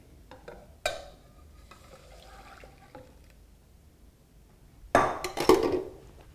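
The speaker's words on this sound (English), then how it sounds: "you want to briefly whisk this to incorporate the roux into your milk" Hot milk poured and whisked into a cooked roux for béchamel, with a sharp clatter near the start, then soft stirring and a louder burst of splashing and whisk strokes against the pan near the end.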